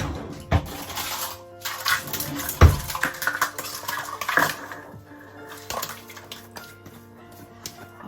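A mixing bowl being pulled out while baking a cake, with several sharp clanks and clatters of dishes, a few louder knocks among quieter rattles, close by and without speech.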